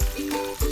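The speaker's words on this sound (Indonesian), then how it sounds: "Ketika minyaknya sudah panas, kita masukkan ayam yang sudah ditepungi ke panci." Flour-coated breaded chicken deep-frying in a pot of plenty of hot oil for crispy fried chicken, a steady close sizzle with bursts of bubbling.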